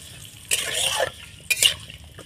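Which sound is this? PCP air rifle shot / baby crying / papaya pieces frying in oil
papaya pieces frying in oil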